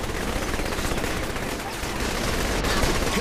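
Dense, continuous gunfire fills the scene as shots are fired from a slow-moving pony cart in Saints Row: The Third, loud and sustained without pause.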